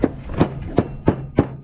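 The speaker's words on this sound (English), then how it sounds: "hammer it" A part being hammered onto the shaft of a Hoshizaki ice machine water pump during a rebuild, five sharp metallic blows at a steady, evenly spaced rhythm, close and fairly loud.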